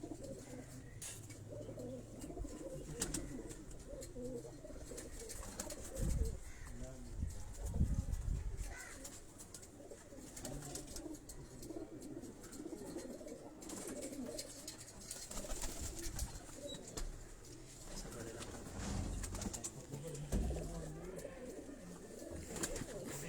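Pigeons coo softly at a distance in a low, repeated rolling call, with faint background murmurs and occasional bumps around them.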